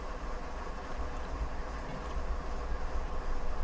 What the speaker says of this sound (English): Wait for the train to fully stop.